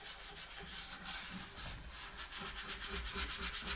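A stiff, well-worn brush scrubs a surface to dull scratches, giving a steady, close rasping rub in quick repeated strokes that grow more rhythmic toward the end.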